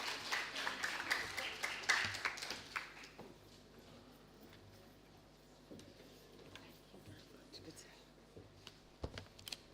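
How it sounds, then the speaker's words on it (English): Scattered applause from an audience at an annual lecture, welcoming a speaker on stage; the clapping is fairly quiet and brief, strongest in the first three seconds and then thinning into murmuring room noise. "Let's give him a round of applause from the Ministry of Education."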